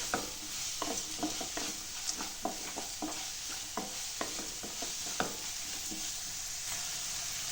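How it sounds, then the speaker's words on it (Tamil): Tomato thokku with rock salt sautés in a pan, a spoon scraping and stirring in quick regular strokes over a continuous soft sizzle, close and without any voices. "கல்லு கூட சேர்த்து நல்லா வதக்கிடலாம்."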